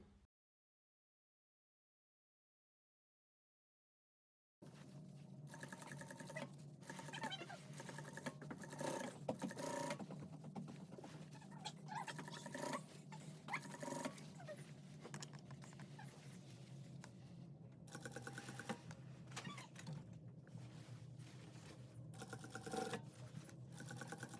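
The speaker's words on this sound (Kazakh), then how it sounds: "Енді шетінен тігіп шығамыз, айналдырып." A sewing machine runs steadily, stitching around the edge of a dress, a continuous mechanical whir that starts after a few seconds of silence and carries on without a break.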